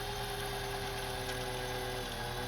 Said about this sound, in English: It's making a nice even wind on the bobbin,